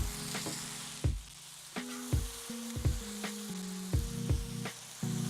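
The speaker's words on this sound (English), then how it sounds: "add a little bit more oil on the sides so these can fry up" Potatoes frying in oil in a big pan with fresh oil added at the sides, a continuous close sizzle broken by periodic clunks and tonal scrapes of a utensil moving them around.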